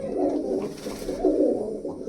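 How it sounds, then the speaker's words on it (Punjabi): A blue female pigeon coos close by, two soft, low, throaty phrases rolling one after the other against a quiet background. "ਆਹ ਕਬੂਤਰੀ ਦੇਖੋ ਜੀ"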